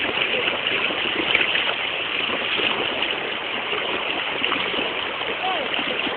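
Water in a forest stream flows and splashes continuously at close range, a steady bright rush with no pauses.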